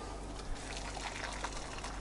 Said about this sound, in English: Pour in boiling water.